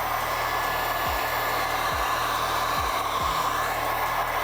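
A heat gun warms PPF film on a car hood, blowing a steady, close, loud whooshing hiss with a few faint low thumps as the film is worked down.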